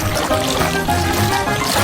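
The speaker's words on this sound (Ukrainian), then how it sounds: "Заповнюю його блакитною водою." Blue water pours into a cake during a food challenge, a continuous close trickling, splashing liquid sound with faint tonal background music and no talk.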